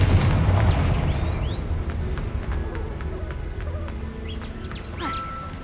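A Confringo fire spell explodes in the video game Hogwarts Legacy, a dull boom within a dense, continuous game soundscape of rumbling, running footsteps and bird chirps.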